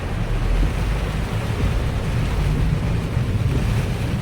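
Typhoon-driven sea waves surge against the coast at A Po Kok during a storm, a loud, continuous roar of churning surf mixed with heavy wind buffeting, steady throughout with no pauses.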